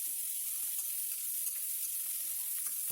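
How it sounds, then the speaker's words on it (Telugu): Onions frying lightly in a pan for a coconut curry give a steady, soft sizzle with faint crackles and occasional small stirring clicks, alone and fairly quiet. "ఈ ఉల్లిగడ్డ కొద్దిగా లైట్గా వేగాలంటే ఎక్కువ బ్రౌన్ కలర్లోకి రావాల్సిన అవసరం లేదు."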